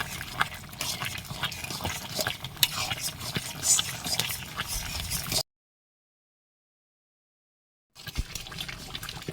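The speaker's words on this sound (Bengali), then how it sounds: "আটাটা দেওয়ার পর ভালো করে নাড়তে হবে" Pumpkin greens curry thickened with flour is stirred in a pot, giving a run of wet, scraping stirring sounds. These are followed by a stretch of silence and a brief return of stirring at the end.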